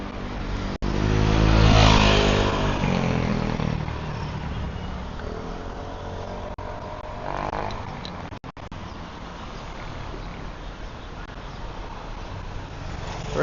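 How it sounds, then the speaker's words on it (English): A car or motorcycle passes close by in Phuket street traffic, its engine swelling and fading, followed by a steady hum of mixed cars and motorcycles with smaller revs further off. "A lot of traffic."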